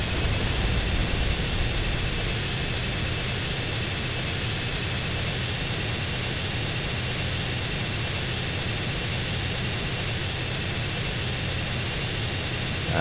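Airplane engine in the video game GTA San Andreas, a steady loud jet-like roar with a constant whine held throughout, no talk over it.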